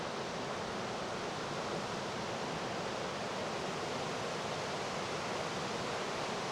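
Silver Spray Falls in Tehipite Valley roars as a steady, even rush of falling water, continuous and fairly distant, with no voices over it.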